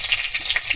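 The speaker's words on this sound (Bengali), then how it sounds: "এখানে দিয়ে দিলাম 5 ফোড়ন 1 চামচ, আর তেজপাতা খেজপাতা দিয়ে দিলাম," Panch phoron five-spice and bay leaves sizzle in hot oil for a mango, date and cashew chutney, a close, bright crackling hiss with small popping bursts throughout.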